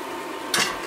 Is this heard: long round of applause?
no